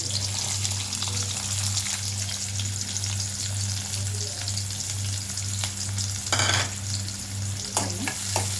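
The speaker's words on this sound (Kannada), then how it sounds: "ನೋಡಿ, ಎಣ್ಣೆ ಕಾಯ್ತೀಗ ಇದಕ್ಕೆ ಈರುಳ್ಳಿ, ಜೀರಿಗೆ ಮತ್ತು ಗೋಡಂಬಿ ಹಾಕೋಣ" Onion, cumin and cashews fry in hot oil, giving a loud, continuous sizzle with occasional stirring scrapes and a brief splashy burst near the end.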